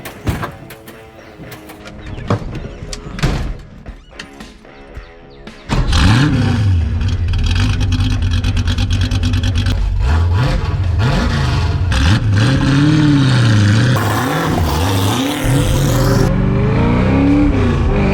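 A 1967 Ford Mustang engine burbles and blips, then roars up loudly and drives off, its revs rising and falling through gear changes in a continuous close, harsh exhaust note.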